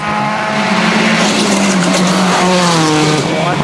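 A 2007 WRC rally car at the Tour de Corse, Rally France, races over bumpy, sinuous tarmac, its engine a loud, sustained roar rising in pitch with tyre noise, under commentary.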